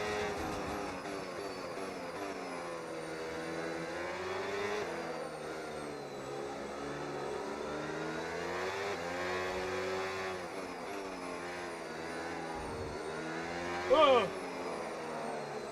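F1 race cars in F1 25 drone at high revs in a steady engine whine under speech, with a Red Bull car alongside in the slipstream, and a brief sharper burst near the end.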